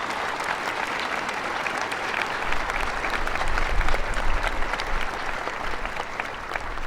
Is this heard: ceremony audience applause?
yes